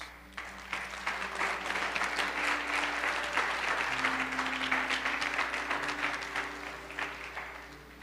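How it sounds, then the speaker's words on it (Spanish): A church congregation gives sustained applause, many hands clapping in a full, even roar that swells after a brief start and fades slightly at the end, with faint musical tones humming beneath. "Dale un aplauso a Jesús."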